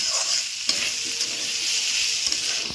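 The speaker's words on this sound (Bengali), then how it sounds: "তারপর একটুখানি হলুদ দেব, পুরো দেব, করে নাড়বো।" Turmeric being stirred into lentil tadka frying in a pan, a steady close sizzle with scraping stir strokes and a few sharper clicks, no talking.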